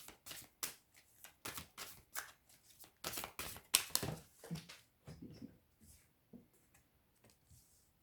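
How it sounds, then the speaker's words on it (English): Tarot cards shuffled and handled in a quiet room, a steady run of soft papery riffles and slaps close to the microphone, fading into lighter scattered card sounds near the end. "I want to draw a clarifying card for the Aries person."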